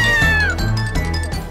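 A cat meows loudly and close by, a long drawn-out, falling caterwaul followed by a few shorter repeated cries, with no talk.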